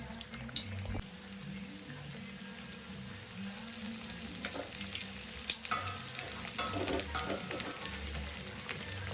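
Maddur vada, flattened dough patties, frying in hot oil with a steady crackling sizzle and bubbling hiss throughout, close by, with occasional clinks of utensils and no speech.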